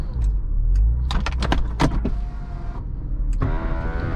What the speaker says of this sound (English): I'm gonna put the top down for you guys.